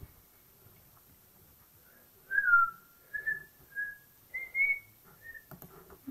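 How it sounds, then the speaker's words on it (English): A person whistles a short, wandering tune in several separate bursts, fairly close and alone without talk, ending with a few faint clicks. "because I'm not good at whistling."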